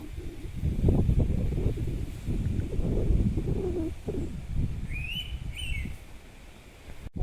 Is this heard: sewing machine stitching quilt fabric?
no